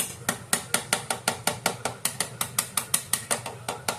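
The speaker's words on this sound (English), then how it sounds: "get, a screwdriver and just tap on it" A screwdriver taps on a fire alarm in a public building. It makes a steady, rapid series of sharp clicking ticks, about four per second, close and alone.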